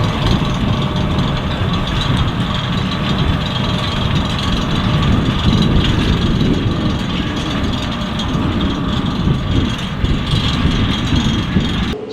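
Inside the cab of a Kioti HX tractor pulling a 6-metre Bednar cultivator across a field, a continuous loud engine drone blends with mechanical rattling and clicking.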